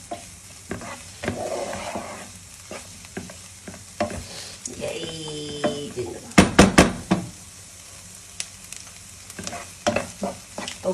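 Onion frying with ginger and garlic in a pan, sizzling steadily while a spoon stirs and knocks against the metal in irregular bursts, with a few sharper clatters near the middle.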